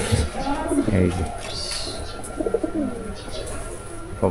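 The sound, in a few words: pigeons cooing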